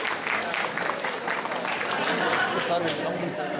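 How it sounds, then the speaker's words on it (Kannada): Audience applause at a live quiz contest, a steady wash of clapping from a crowd that runs throughout at moderate loudness, with some voices mixed in. "ಚಪ್ಪಾಳೆ ತಟ್ಟಿ ಅಭಿನಂದಿಸಬೇಕು."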